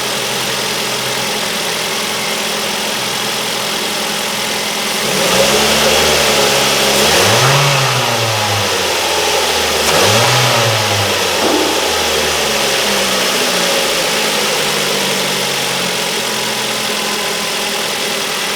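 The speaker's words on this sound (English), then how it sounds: "Let's give it a little rev" A Ford Focus 1.8 petrol engine idles steadily, then is revved twice in quick swells before settling back to a smooth, quiet idle, heard close with no talking.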